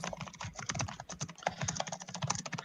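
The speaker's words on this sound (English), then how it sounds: "That is the loudest bloody typing" Loud computer keyboard typing clatters nonstop in quick, irregular keystrokes, close and dense, with no voices over it.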